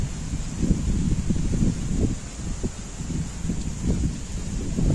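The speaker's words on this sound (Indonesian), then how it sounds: "lihat angin lagi kencang" Strong wind on a beach at Pantai Air Raya buffets and gusts in uneven low rumbling bursts, with a faint steady background hum.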